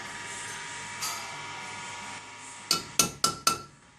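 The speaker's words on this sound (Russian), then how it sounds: "Мы на нем ставим керном точечку" Center punch tapped with a hammer to mark the end of a crack in a sand-damaged Suzuki DF 100-140A 2.0 outboard cylinder head: four sharp metallic clinks in quick succession after a faint earlier tap, close.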